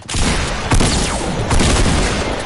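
Gunshots from a video game: loud, close, heavily saturated bursts of fire that hit at roughly even intervals and run together into a continuous roaring barrage.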